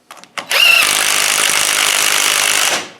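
A power tool fitted with a socket runs a bolt down, giving a short stuttering start and then a loud, steady whirring drone that fades out at the end, with no voices.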